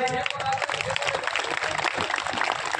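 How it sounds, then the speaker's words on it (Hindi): A crowd claps for a woman from Gaya being introduced at a Buddhist gathering in Agra, with steady applause running throughout, close and fairly loud, mixed with a talking voice. "अंकु के लिए ताली बजाए।"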